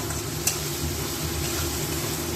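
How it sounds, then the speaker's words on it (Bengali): Ground spices frying in oil in a pot for chicken curry, giving a steady close sizzle with faint stirring scrapes and one brief clink near the start, no voices. "দিয়ে মোটামুটি একটু সব গুঁড়ো মশলাগুলো একটু ভাজাভাজি হবে।"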